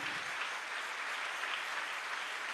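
A church congregation claps during a service. A fairly faint, continuous wash of many hands clapping together lasts throughout with no speech.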